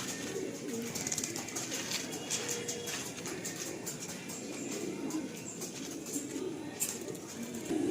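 Racing pigeons in a loft, soft cooing and low murmuring from several birds under a steady quiet background hiss, faint and fairly close, with occasional light rustling.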